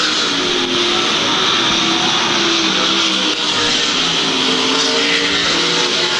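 Sprint cars race around Lakeside Speedway in a World of Outlaws feature, with engines roaring and droning steadily and loudly. Several cars overlap throughout, and the engine pitch rises and falls as they pass.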